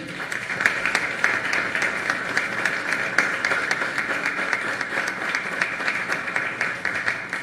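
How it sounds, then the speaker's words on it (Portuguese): A crowd claps for health professionals at a public civic presentation, a continuous rapid patter of many hands, loud and steady throughout. "a quem eu queria aqui pedir uma salva de palmas nesse momento"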